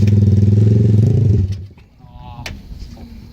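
A BMW quad converted into a trike runs its engine at high idle, a loud, close, throbbing drone that drops away after about a second and a half, leaving quieter mechanical clatter and a brief tone.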